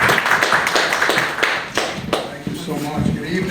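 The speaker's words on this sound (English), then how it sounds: "Big round of applause for Chief Camper, please." Scattered individual claps ring out from a small audience greeting Brooklyn South Chief Camper at an event marking a police promotion, fading into talking toward the end.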